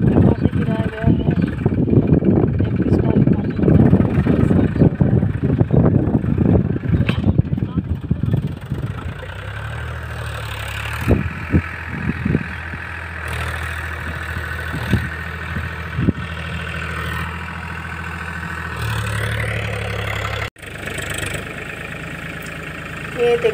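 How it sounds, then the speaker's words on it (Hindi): A tractor engine runs steadily while levelling soil in a farm field, a low continuous drone heard at a distance under a voice talking and some outdoor background noise. "यहाँ पे ट्रैक्टर से इसको सम किया जा रहा है।"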